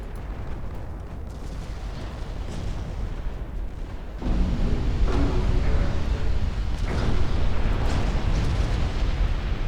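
18-inch naval main guns firing in Ultimate Admiral Dreadnoughts, deep booming salvos rolling into a continuous heavy rumble, growing louder partway through with repeated blasts layered over distant battle noise.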